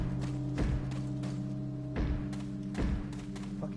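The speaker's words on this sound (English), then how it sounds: "I don't understand how you can hear Lewis banging in there, but you can." Luis banging from inside a locked room in Resident Evil 4: three dull, muffled thuds spaced about a second apart, heard through a wall over a steady low ambient hum.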